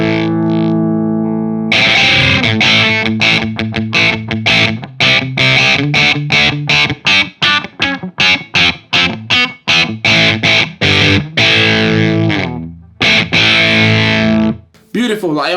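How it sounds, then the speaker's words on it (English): Heavily distorted electric guitar through a Zoom 505ii multi-effects pedal, loud and continuous with chugging, rapidly repeated chords and a few sustained ringing notes, playing alone without talk. "Alright, distortion."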